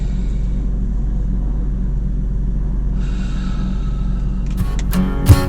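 A Porsche 911 (996) engine runs with a steady low idle rumble after a burst brake line. A few sharp clicks and knocks land near the end.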